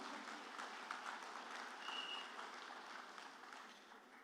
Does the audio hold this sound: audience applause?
yes